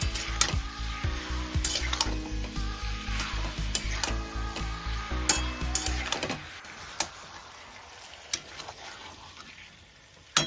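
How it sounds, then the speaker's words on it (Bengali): Taro stolons (lati) frying dry in a pan without water, with a continuous sizzle punctuated by rhythmic scraping and knocking of a spatula stirring against the pan, the stirring stopping partway to leave a softer fry. "এবারে এটাকে আবার একটু ভাজা ভাজা করে নেব এর মধ্যে কোনো জল দেব না"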